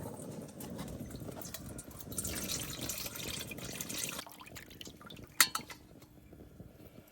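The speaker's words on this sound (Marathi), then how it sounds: "हे अलगदी पाणी गाळून घ्या. हे असं गाळून घ्यायचं." Ground crab masala, freshly stone-ground for a spicy village-style crab curry, has its water strained off: a steady wet splashing and trickling for about four seconds, then quieter clinks of a metal pot and a sharp knock.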